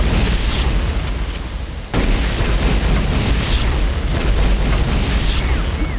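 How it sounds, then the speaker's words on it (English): Scorpion missile launcher firing in a video game: loud, sustained booming blasts with rumbling explosions that fill the whole clip, briefly dipping before another heavy detonation. "Scorpion missile launcher."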